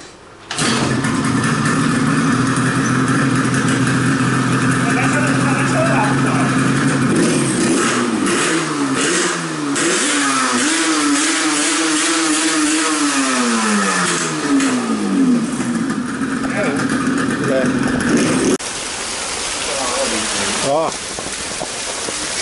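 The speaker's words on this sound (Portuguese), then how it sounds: "Cadê a chave dela? Vamos funcionar ela." A convertible car's engine cranks, catches and revs up and down in a long sustained run while rain patters steadily on the surface nearby, the engine dropping away sharply near the end.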